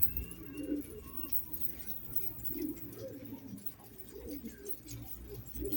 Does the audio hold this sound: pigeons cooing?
yes